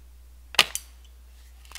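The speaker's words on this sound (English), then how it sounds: "Then again, you give another pump and you're ready to fire." A Daisy Grizzly BB gun fires a single sharp, close pop, followed by a faint mechanical click and a small rattle, with no talking.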